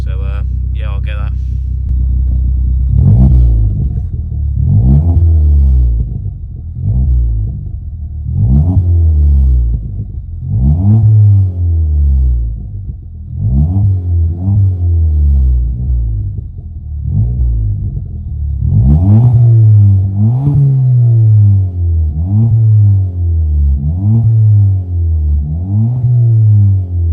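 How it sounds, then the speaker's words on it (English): A Ford Fiesta ST with a new 3-inch Powerflow decat exhaust revs repeatedly, each blip rising and falling in a deep, throaty burble over a steady idle rumble, close to the tailpipe. "that's the exhaust sound of my new exhaust, 3-inch Powerflow decap"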